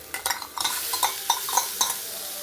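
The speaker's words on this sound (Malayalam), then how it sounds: "ഇനി നമ്മൾ ചിക്കൻ എടുത്ത് ലോട്ടിടാം." Chicken pieces added to a pan and stirred while cooking kanthari chicken: a quick, irregular series of clinks and scrapes of a utensil against the pan, close and fairly loud, with no talking.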